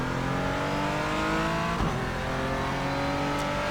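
A Porsche Cayman GT4 on a slow lap at Sebring in iRacing drones steadily, loud and close, its engine note rising through the gears with a quick shift dip midway.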